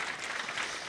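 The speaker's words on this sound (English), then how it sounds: "Let's give everyone a round of applause, please." A conference audience gives a round of applause at a software event, steady dense clapping filling the whole moment with no voices on top.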